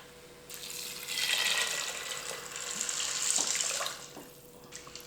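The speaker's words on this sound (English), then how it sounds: "Then I have about 8 cups of veggie broth." Vegetable broth, about eight cups, pours from a carton into an Instant Pot, a continuous splashing stream that swells and eases over several seconds before tapering off.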